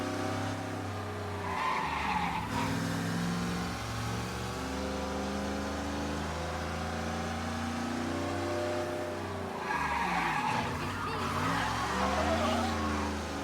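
A car in the video game Mafia Definitive Edition skids with long tire squeals while its engine revs and drones steadily, loud and close, with two sharper skid bursts near the start and the end.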